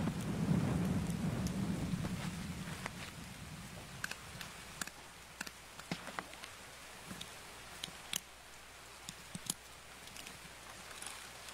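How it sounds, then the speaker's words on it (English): Video game rain patters steadily alone with scattered sharp drops and crackles, a low rumble fading early on, fairly quiet throughout. "Fucking rain."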